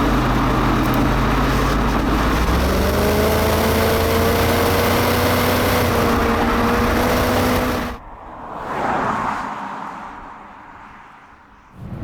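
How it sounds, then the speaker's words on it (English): A BMW E39 540i V8 runs loud and steady, its low engine tone rising and holding under load for about eight seconds before cutting away to a quieter, muffled stretch. "What a fabulous engine."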